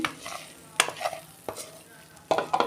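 Fried spiny gourd (kakrol) being tipped out of a pan, a few sharp scraping clatters of spatula on metal separated by quieter sizzling gaps, close by, with no voices.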